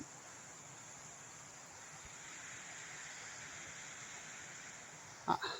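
Waterfall beside a pilgrimage route along the Narmada, heard as a steady, broad rush of water, even and unbroken, with a brief knock near the end.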